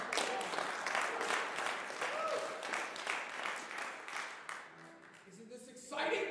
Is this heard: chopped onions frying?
no